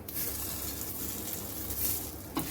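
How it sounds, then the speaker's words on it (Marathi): Steady soft sizzle of poha vadis being gently sautéed in a pan over a low gas flame, continuous and close, with a brief clink of a utensil near the end and no talking. "थोड्याशा परतून घ्यायच्यात आपल्याला."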